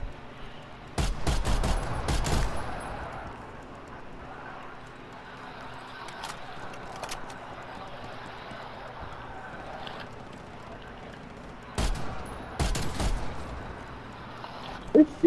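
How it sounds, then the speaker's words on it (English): Sharp volleys of gunfire ring out in a Call of Duty: Black Ops Cold War zombies outbreak match, two clustered bursts near the start and another near the end, with quieter ambient game sound between. "Who's shooting over here?"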